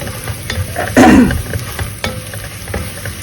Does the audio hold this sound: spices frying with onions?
yes